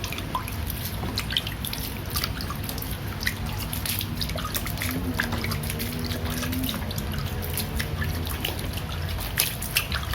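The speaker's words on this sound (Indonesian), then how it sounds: "jangan lupa disiram" Water trickling and dripping steadily as a freshly transplanted anting putri bonsai pot with sand and gravel mix is watered, a continuous close splashing patter with no voices.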